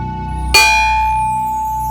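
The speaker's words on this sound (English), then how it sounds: "Give me some chimes." Chimes struck once, a bright shimmering strike that rings out and slowly decays over a low steady drone.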